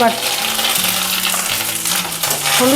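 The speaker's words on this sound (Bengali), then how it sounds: "কারণ এগুলো প্রচণ্ড ফুটে ছিটকাচ্ছে আদাটা" Ginger paste and turmeric powder fry in hot oil with whole spices, bay leaf and dried chilli for shukto, spluttering and sizzling loudly and steadily at close range with a faint stirring scrape.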